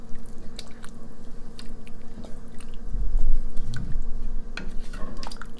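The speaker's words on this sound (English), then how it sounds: "now we're going to add this is parsley, basil, and oregano. Fresh. Give that a good stir in there." Fresh parsley, basil and oregano get stirred into a pot of homemade spaghetti sauce: wet squishing and soft spoon scrapes against the pot, with occasional light clinks, close up and steady.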